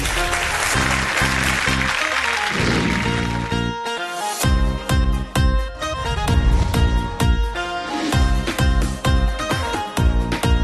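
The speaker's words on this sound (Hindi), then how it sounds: "जोरदार ताली" Applause for a team announcement on a Bhojpuri TV show, mixed with loud, rhythmic music and sharp hits; the clapping blends into the music, which pauses briefly and returns.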